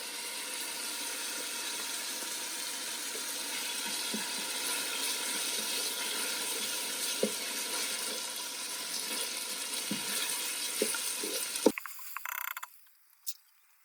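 Ginger sizzles in an Instant Pot as a steady, dense hiss with occasional pops and clicks, then stops abruptly near the end.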